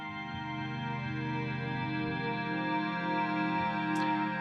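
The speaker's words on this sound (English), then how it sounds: "then you have a good ambient reverb" A sustained Access Virus TI synthesizer chord drones with rich harmonics, washed in spacious hall reverb that lingers evenly throughout.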